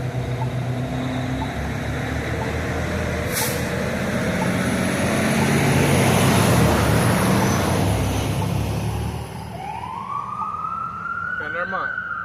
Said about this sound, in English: I'm going to wait for this fire truck. I already know they're going to make a hell of noise right now.